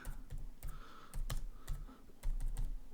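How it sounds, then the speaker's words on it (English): Keys on a computer keyboard are tapped in a quick, uneven run of close, crisp clicks as a search is entered, with no talking. "we're going to go ahead and type in 1880S Morgan"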